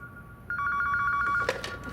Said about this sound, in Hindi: अम्मी, हमें लैंडलाइन पर एक फोन आ रहा है,